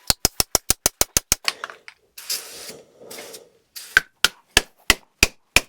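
Sharp metallic hammer blows drive a bushing into place on a 1967 Camaro in a rapid run of about nine, a pause with some rustling and scraping, then another series of evenly spaced strikes.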